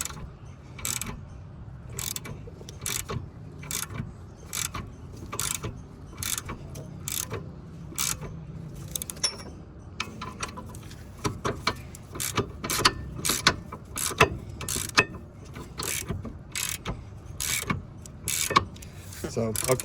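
A ratchet loosening a brake bracket bolt on a Hyundai Sonata: steady rapid clicking of the pawl in repeated strokes, close and clear, with a person talking quietly in the background.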